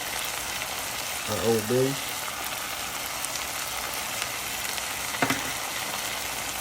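Onions fry in a pan for shrimp tacos, giving a steady, soft sizzling hiss throughout, with brief speech over it.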